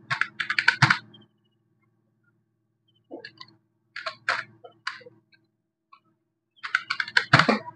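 A password is typed on a computer keyboard in several short bursts of quick, crisp key clicks separated by silent pauses, close and clear in a quiet room.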